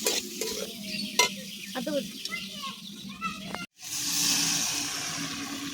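Spice masala for a fish roe curry sizzles and scrapes as it is stirred in a pan, with irregular clatters and a voice talking in the background, then a brief cut to a steadier hiss.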